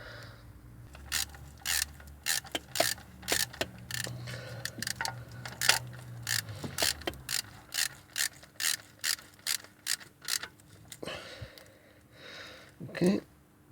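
A ratchet wrench tightening an M10 bolt on the alternator belt tensioner of a VW Polo 1.2 three-cylinder, a run of sharp rapid clicks in quick even bursts, close up, with a brief mechanical clunk near the end.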